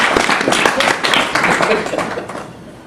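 A live comedy-show audience claps and cheers in a dense, sustained burst of applause to vote for the painting, loud and close, tapering off at the end.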